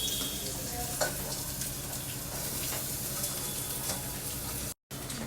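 Onions and capsicum with asafoetida fry in hot oil, making a loud, continuous hiss and sizzle with faint stirring scrapes close by.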